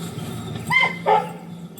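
A dog barks twice in a shaded yard outside a hot rod garage, two short, fairly close woofs about a third of a second apart over a steady low background hum.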